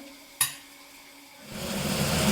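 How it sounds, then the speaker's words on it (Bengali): Egg fried rice with turmeric and salt frying in a pan: a single sharp clink early on, then a steady sizzle that swells and holds loud through the second half, with no talk. "ডিম দিয়ে ভাত ভাজা"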